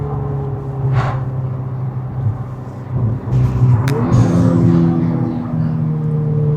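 Volkswagen Golf R fitted with an İskender-made 76 mm chrome exhaust, driving along with a steady low drone that swells as it picks up speed, a brief higher whine near the middle, no talking.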